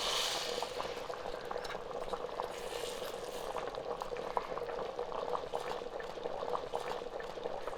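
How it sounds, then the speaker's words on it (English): A Gujarati dhokli mixture is poured into a pot of boiling dal, giving a soft, continuous bubbling and liquid sizzle, close and fairly quiet, with no speech. "pour this into the dal."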